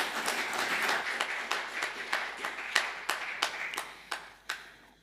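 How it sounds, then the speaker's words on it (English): A church congregation at a Methodist Sunday service claps in a modest round of applause, scattered and fairly quiet, with individual hand claps standing out near the end as it tapers off. "Not used to getting a round of applause as I head to the pulpit."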